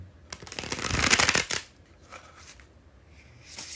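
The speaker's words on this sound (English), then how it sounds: "Here it is, the bridge shuffle." A bridge shuffle of playing cards riffles briskly for about a second, crisp and close, followed by a soft bridging flutter and a couple of quieter card taps.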